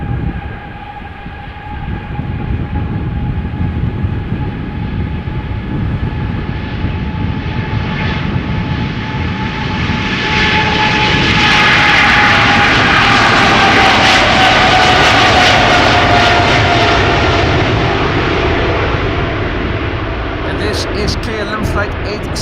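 A three-year-old Boeing 777-300ER departs Schiphol Airport for Delhi. Its jet engines make a loud, continuous roar that swells to a peak about midway, with a high whine over it, then stays strong as the plane climbs away.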